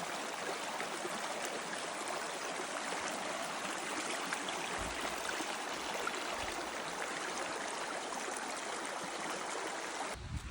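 A gentle, meandering river flows steadily near the walking path around the old village of El Acebuchal, a constant broadband rushing and trickling with no voices and little change in level throughout.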